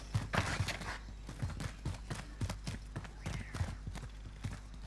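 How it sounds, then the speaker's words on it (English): Footsteps in a video game: a steady run of soft, rhythmic thuds and scuffs, close and fairly loud, with no talking over them. "I got footsteps."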